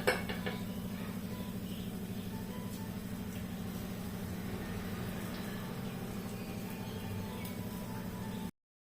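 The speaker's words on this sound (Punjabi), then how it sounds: "ਹੁਣ ਮੈਂ ਇਹਦੇ ਵਿੱਚ ਮੈਸ਼ ਕਰਕੇ ਆਲੂ ਪਾ ਦੂੰਗੀ" Potatoes being mashed in a pan give a steady, busy clatter and scraping of utensil against metal, continuous and close, at moderate loudness with no voices.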